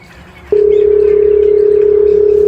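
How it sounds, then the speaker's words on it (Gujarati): A telephone dial tone comes on abruptly and holds as a steady, loud continuous tone while a phone call is placed, with faint room noise before it starts. "જેકુભાઈ કરવા દેજે ફોન"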